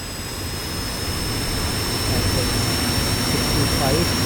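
A Northrop F-5E Tiger jet engine throttling up from a cold start: a steady roaring hiss with a high whine that swells gradually louder over a few seconds.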